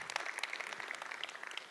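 Audience applause for a sponsor at an evening talks event, a short run of scattered hand claps, fairly faint and roomy, with no voice over it.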